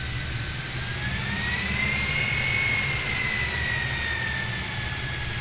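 Turbojet engines of a Fokker 28 regional jet in a flight simulator drone steadily, a loud constant roar with whining tones that rise and dip slightly throughout, with no talk.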